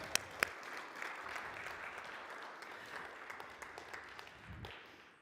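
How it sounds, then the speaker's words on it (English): A congregation at a Sunday service applauds the band after an original song, steady soft clapping from a roomful of people that fades away near the end. "he appreciates your applause"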